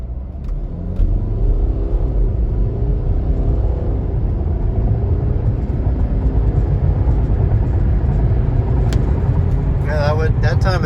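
A 2014 Mercedes-Benz GLK250 Bluetec 4Matic diesel launches at full throttle from 0 to 60 mph. A deep engine rumble climbs through the gears under heavy road noise, close and continuous, and a brief chime sounds near the end.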